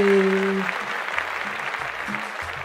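Guests at a quinceañera party in Houston applaud, a broad wash of clapping with voices and a sustained tone mixed in at the start, continuing steadily near the microphone.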